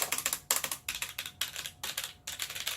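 Fast typing on a Roccat Vulcan Aimo 100 keyboard: close, crisp bursts of key clacks in quick rhythmic runs separated by brief pauses, with no one speaking.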